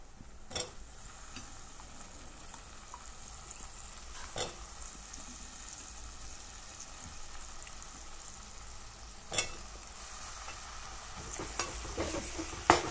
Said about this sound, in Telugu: ఇలా మంచిగా ఫ్రై అయిన తర్వాత పచ్చి వాసన పోయే వరకు ఫ్రై చేయాలండి. తర్వాతకి వచ్చేసి ఆలుగడ్డ పీసులు వేయాలి.